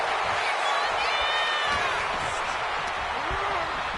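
A wrestling arena crowd in the video game 2K26 roars in a constant wash of cheering and whoops, with a commentator's voice running over it.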